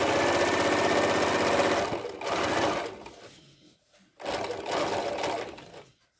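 A sewing machine stitches a decorative cushion in quick bursts: a long fast run, a short pause, another burst, a near-silent gap, then a final fast run before stopping.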